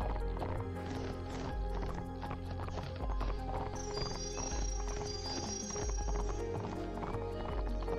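Hooves clip-clop steadily as a horse moves near a foal in the Barbie Horse Adventures video game, with a whinny partway through, and game music plays underneath.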